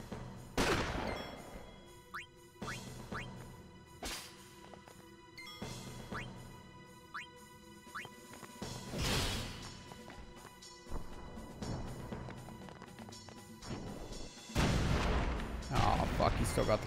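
In the Final Fantasy X video game, cannon blasts and explosion booms ring out repeatedly at irregular intervals over game music, with a player talking in between.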